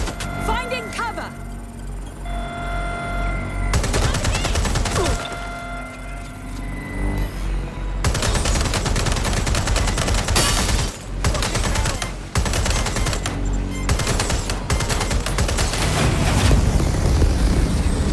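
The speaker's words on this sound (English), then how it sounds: "Being shot at here." Dense gunfire in Watch Dogs Legion, sustained machine-gun bursts and rapid shots crackling loudly and continuously with booming impacts, while voices talk and shout over the shooting.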